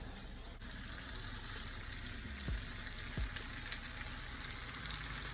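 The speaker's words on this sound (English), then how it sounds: "I like to let the sauce cook with the shrimp for a little, so it can marinate" Cajun shrimp simmers in sauce in a pan, making a soft, steady sizzle with a couple of low thumps from stirring or the pan. It is fairly quiet and close, and nobody speaks.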